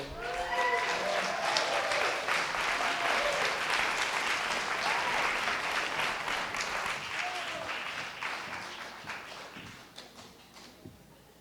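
Audience applause for Harvey Hine at a Month of Modern F*ckup Night event, a full round of clapping with faint voices mixed in, holding steady and then gradually fading to scattered claps.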